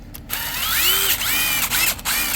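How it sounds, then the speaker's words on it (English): Power drill spinning a small carburetor part from a Honda GX160/GX200 engine for cleaning, a close whirring motor with rising and falling pitch sweeps and short stops between bursts. "you can even put that in a drill and"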